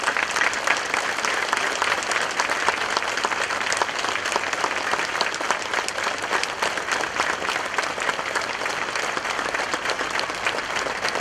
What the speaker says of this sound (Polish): jak mamy tyle energii, to oklaskami podziękujmy im wszystkim.